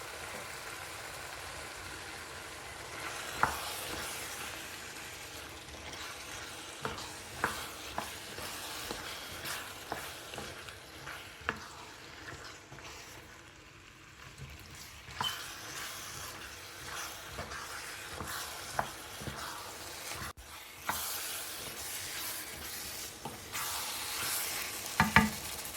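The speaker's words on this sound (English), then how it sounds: "just mix in the spiced pumpkins and cook for about 5 minutes" Spiced pumpkin pieces stirred and cooked in a pan of oil for a Kerala pumpkin curry, a low continuous sizzle broken by intermittent utensil scrapes and taps over a long stretch.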